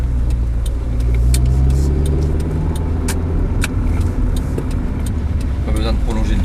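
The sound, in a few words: Honda Civic car driving after S40 gearbox reinstalled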